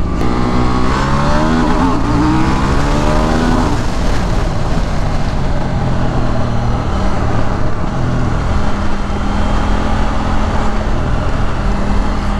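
A KTM Duke 790 motorcycle on a race track accelerates hard to overtake, its engine roaring loudly and steadily with rising revs throughout, close to the rider with no talk.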